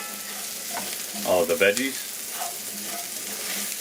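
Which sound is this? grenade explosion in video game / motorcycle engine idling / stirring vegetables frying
stirring vegetables frying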